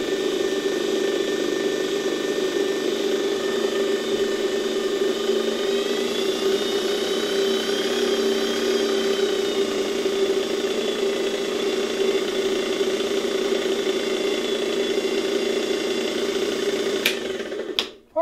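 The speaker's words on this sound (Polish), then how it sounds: "Ok, może nie działa ten odkurzacz jakoś pięknie, ale cieszę się tak czy inaczej, że ten silnik ruszył." A vintage Electrolux 7 vacuum cleaner motor runs steadily after restoration work, a continuous loud whirring drone with a faint pitch wobble midway, then cuts off abruptly at the end.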